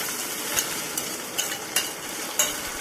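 Cooked horse gram sizzling in a pan with popped mustard seeds, a steady close crackle broken by a few soft stirring knocks at regular intervals, no talking.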